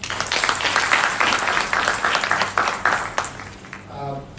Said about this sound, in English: So let's have a round of applause for all of us.